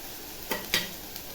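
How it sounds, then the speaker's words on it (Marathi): Spices fry in oil for an onion-tomato soybean curry, a faint sizzle broken by a couple of short scraping stirs of a spoon against the pan. "मसाले बघा छान असे परतलेले आहेत"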